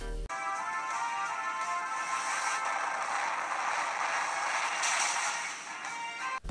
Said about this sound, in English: It's giant pieces of rock crashing on your opponent.